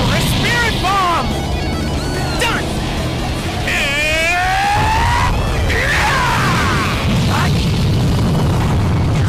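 A Spirit Bomb blast in Dragon Ball Sparking Zero, a loud, continuous roaring cacophony of booming and rumbling with swooping whistling game effects, mixed under voices throughout.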